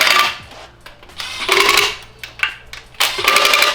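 An impact wrench snugs the timing cover bolts on an LS engine during a budget Miata swap, giving three short, loud metallic bursts separated by brief pauses, close to the listener.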